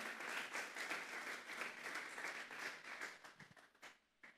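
Church congregation clapping in praise, dense sustained applause filling the room for several seconds, then thinning and tapering off near the end.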